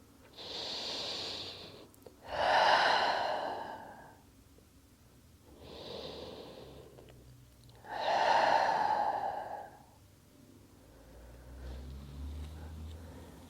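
Deep, slow breaths during a yoga session, two full inhale-and-exhale cycles heard close and clear, each breath long and airy with quiet pauses between.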